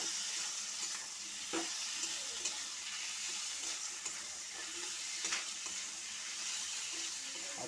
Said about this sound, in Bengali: এখন মাংসটা এর সঙ্গে দিয়ে দেবো, মাংসের সঙ্গে কষবো।